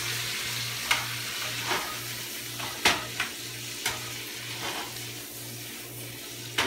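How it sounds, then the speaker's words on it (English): Asparagus and tomatoes sauté in a hot pan with a steady low sizzle, punctuated by several sharp scrapes and clacks as a utensil stirs them; a faint hum runs underneath and no one talks. "Just gonna saute that for about another 30 seconds to a minute."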